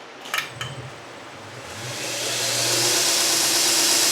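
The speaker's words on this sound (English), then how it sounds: "I just want to, run the grinder for a minute and see how the contact wheel does" A TW-90 belt grinder with a contact wheel starts up after a few light clicks and spins up into a rising, steady broadband whir that grows louder and holds, close by with no voices.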